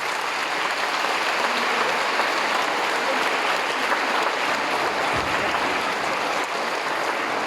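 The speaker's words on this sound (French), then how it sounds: "je souhaite vous applaudir" A school audience applauds in a continuous, dense wash of clapping, loud and even for several seconds with no pauses.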